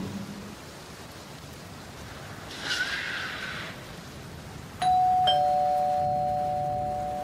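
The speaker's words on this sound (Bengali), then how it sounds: "কলিং বেলের তীব্র আওয়াজ শোনা গেল" A doorbell sound effect in a Bengali detective audio story, a single sharp sustained electronic ding-dong ringing out loud and clear over a soft hiss of rain and storm, with a faint horse whinny before it.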